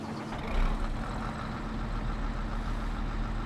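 Fendt Katana 850 forage harvester in Farming Simulator 22, its engine turning over and settling into a steady deep diesel idle with a low rumbling drone and a constant hum, no voices.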